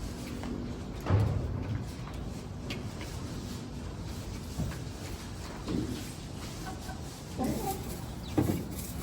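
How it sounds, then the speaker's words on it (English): Chickens on a smallholding, with at least two cockerels, cluck in short bursts at moderate distance over a steady outdoor background. "Cockerels."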